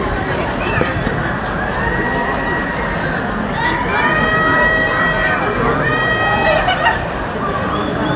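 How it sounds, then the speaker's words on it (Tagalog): A dense New Year's Eve crowd near the Arc de Triomphe in Paris, a continuous roar of chatter and shouting with bursts of whistles or horns, loud and close, with voices talking throughout. "So, ito yung crowd."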